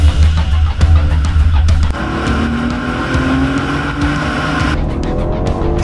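A BMW X4 M Competition driven hard on a race track: a loud engine roar that rises in pitch through the gears, with tire squeal and a strong, continuous high-revving note, close and without talk.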